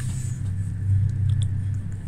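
A car driving on a road between Osnabrück and Ibbenbüren, a steady low engine rumble heard from inside, with faint road noise and no voices.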